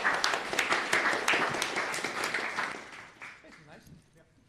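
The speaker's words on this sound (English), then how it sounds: "Big round of applause for our judges." Audience applause for judges at a startup incubator event, with rapid clapping that swells briefly and then fades out, a crowd applauding in a room.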